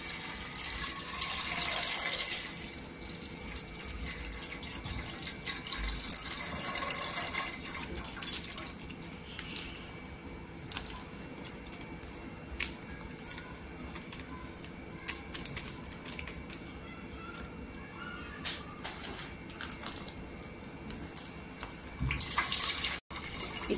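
Milk from a plastic packet streams into a pan for making homemade curd, a soft continuous pour with small clicks and handling noises, fairly quiet and close.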